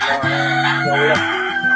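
A single rooster on a farm in Oriental Mindoro crows once, loud and close, a clear drawn-out cock-a-doodle-doo.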